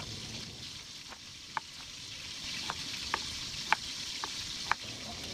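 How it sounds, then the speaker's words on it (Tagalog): Oil sizzles steadily as fish fries in a pan, a constant crackling hiss with scattered sharp pops, close and moderately loud, no voices. "At habang nagpiprito tayo"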